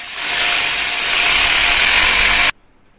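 Hammer drill boring a hole for a Mitsubishi split AC installation, one steady loud grinding whine lasting about two and a half seconds and then stopping abruptly.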